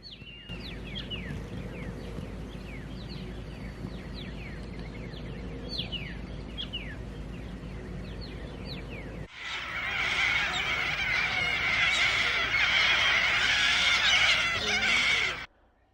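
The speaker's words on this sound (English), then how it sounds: "We awoke at the Mound Eyre Hotel to a symphony of bird life" Birds call and chirp in the early morning outside a hotel near flooded Lake Eyre in the Australian outback, with repeated sharp calls at moderate distance. Partway through, a loud steady rushing hiss abruptly takes over until it stops near the end.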